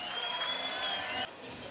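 Crowd at an AVP beach volleyball match in Hermosa Beach applauding and cheering after a kill, a steady dense wash of clapping that drops off suddenly near the end.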